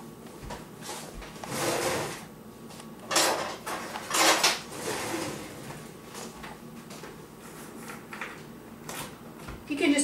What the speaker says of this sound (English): I'm going to chop up some of these pecans